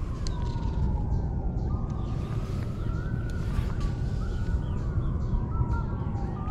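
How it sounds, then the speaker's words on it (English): A police siren wails faintly in the distance, its pitch rising and falling over steady outdoor background noise. "those dogs love that police siren."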